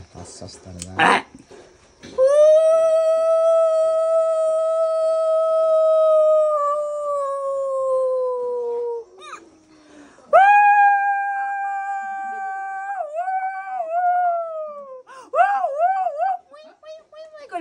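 A human voice imitates a jackal with long, drawn-out howls that slide downward, followed by shorter wavering wails after a pause.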